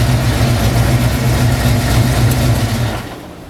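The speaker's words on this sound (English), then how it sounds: "I'm gonna go ahead and shut off the motor." A car engine idles steadily with a low, heavy rumble close by, then is switched off near the end and the sound drops away.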